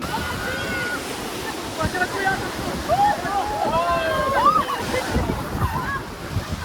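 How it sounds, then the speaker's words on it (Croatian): Choppy water churns and splashes loudly and continuously, with people talking over it. "Ovdje je postala uzburkana voda."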